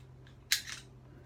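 A rifle's bolt carrier group slides out of the receiver once the top pin is popped, giving one short, sharp metallic scrape close up in an otherwise quiet room.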